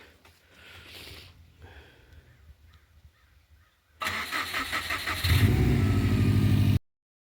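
After quiet mechanical rustling, a Chrysler Town and Country van's engine cranks and fires up, then revs loudly and close in rising bursts before cutting off abruptly.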